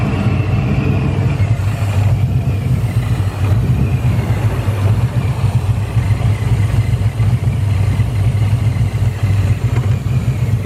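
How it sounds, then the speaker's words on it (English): A supercharged 2012 Ford Mustang GT idles rough and close, a continuous uneven engine rumble with a slightly unsteady, lumpy beat and no talking. "It's idling a little rough right now."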